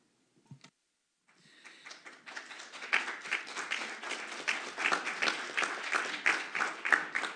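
A crowd at a city council meeting breaks into steady applause after a brief knock, clapping building and continuing evenly, moderately near, with no talking over it.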